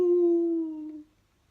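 A person's voice imitates a dog howling like a wolf, one long sustained wail that holds steady then slides slightly down and fades out, close and alone.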